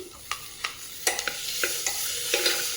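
Raw green peas tipped into a hot pan and stirred for barley pulao, giving a run of soft scraping stirs and light sizzling, with spaced clinks of a spoon against the pan, close and moderately quiet.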